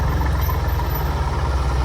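A tractor engine rumbles steadily and fairly close, its deep idling drone unbroken throughout, with no talking over it.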